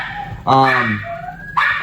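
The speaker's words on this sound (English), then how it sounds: "this is a perfect example of my wife bringing home dogs" Dogs bark and yelp close by in short, loud bursts, with whiny, whimpering tones between the barks.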